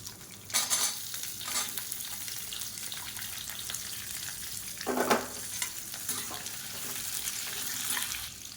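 Long-sliced big onions frying in a pan for a roadside-style onion chutney, a steady sizzle with bursts of stirring and scraping, one louder rush midway.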